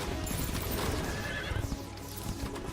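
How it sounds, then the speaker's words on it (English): A horse neighing in the game Terraria, a loud whinny over a dense layer of game music and sound effects. "I heard a horse."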